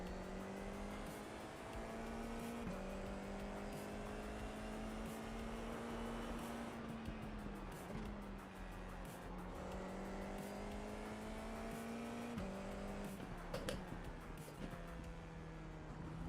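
An F4 open-wheel race car engine in the iRacing sim on a slow outlap, a steady buzzing drone that rises and dips gently with light throttle changes, continuous and fairly close, with brief gear-shift blips and no talk.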